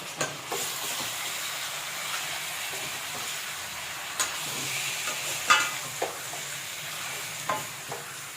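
Chicken curry with dried coconut and poppy seeds being stirred in a pan, a soft continuous sizzle with scraping spoon strokes and a few sharp clicks against the pan, close and fairly quiet.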